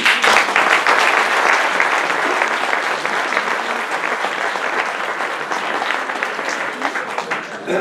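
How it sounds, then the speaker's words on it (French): Loud, dense applause from a crowd at an early political campaign meeting, steady and sustained throughout, slowly easing toward the end. "je vous applaudis"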